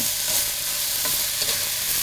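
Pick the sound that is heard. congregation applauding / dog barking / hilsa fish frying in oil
hilsa fish frying in oil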